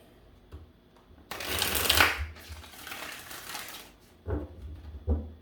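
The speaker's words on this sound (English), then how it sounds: "I'm going to give this 3 shuffles" A deck of cards being shuffled: a loud riffling burst lasting a couple of seconds, then softer rustles and two short card taps, close up.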